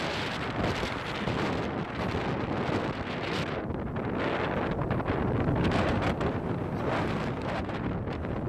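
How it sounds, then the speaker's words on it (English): Strong wind on a gusty day in Devon roars steadily against the microphone, a loud, unbroken rush that swells and eases in gusts with no voices. "it's very windy"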